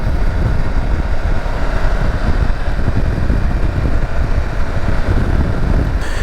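A 2023 Triumph Tiger 1200 GT or BMW R1250 GS motorcycle engine revving out while riding, a steady loud engine drone mixed with heavy wind rush over the microphone, continuous with no talk.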